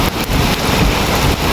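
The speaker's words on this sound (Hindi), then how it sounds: "बारिश में आपको दिखाता हूँ कैसी हो रही है, ये देखें कितनी तेज़ हो रही है और पानी कितनी स्पीड से जा रहा है डाउन स्ट्रीम" Heavy rain pours down in a storm with water rushing fast downstream, a dense, loud, continuous hiss and roar with some wind buffeting and no talking.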